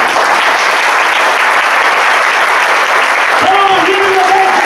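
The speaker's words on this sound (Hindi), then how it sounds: "Come on, give him the best hand clap." A church congregation claps and cheers for Jesus in a steady, dense wall of applause that fills the whole space, with a voice breaking in over it near the end.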